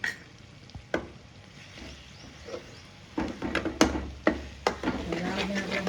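Finely chopped onion and coriander-cumin powder frying in oil in a pan for Gujarati drumstick curry, soft sizzling punctuated by sharp spoon taps and scrapes, growing denser and louder in the second half.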